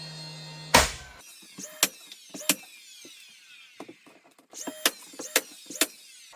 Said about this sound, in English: I am just going to go ahead and grab my pin nailer and get this tacked up